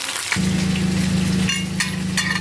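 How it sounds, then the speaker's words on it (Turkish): Loud, steady sizzling of fish frying in a hot pan starts abruptly, with a few sharp crackles and pops close by. "Bir yandan da balıkları pişirmeye devam edeceğim."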